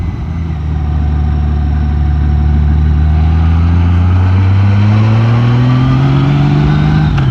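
A car engine drones loud and close while climbing a crooked switchback road in low gear, its pitch rising steadily under acceleration and then dropping at a gear change near the end, with no talking.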